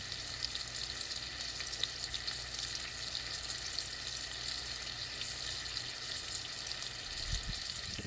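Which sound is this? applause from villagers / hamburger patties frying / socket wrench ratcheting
hamburger patties frying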